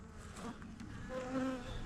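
Honey bees buzz softly across a hive frame of bees and brood, a faint, steady drone with a few brief higher whines, no voices.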